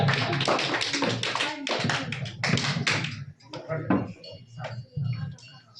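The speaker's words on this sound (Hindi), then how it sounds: "उनके लिए भी जोरदार ताली एक बार बजाएं" A room of students at a Sunday study-circle class in Sisai breaks into brisk, close, dense clapping for about three seconds, then it thins to a few scattered claps as a voice speaks.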